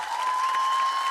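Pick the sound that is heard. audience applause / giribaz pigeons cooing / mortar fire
audience applause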